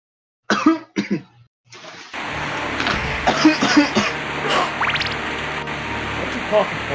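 A few sharp, sputtering coughs from someone whose drink went down the wrong pipe burst out close up, followed by a busy background of game music and liquid-like sounds.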